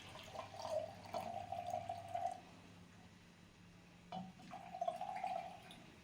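Hot water poured and splashed in a container as it is mixed to a lukewarm temperature, with two bursts of pouring separated by a short pause, fairly quiet and close, with no speech.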